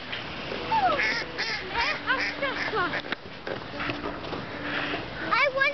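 A group of ducks gathered by the water quacks nearby in rapid, overlapping calls, with rising and falling cries throughout and voices mixed in the background.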